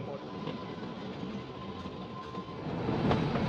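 The Kalka–Shimla toy train rolls along its rails near a long tunnel, a continuous rumble with faint clatter that grows slightly louder toward the end, with no voices.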